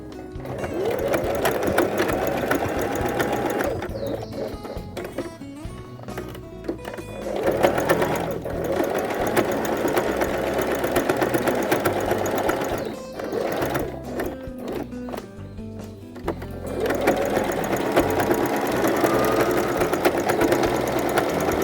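A sewing machine runs stitching a straight seam on a handmade fabric baby doll, a close, steady rapid mechanical whirring in several long runs with brief stops between them, and no talking.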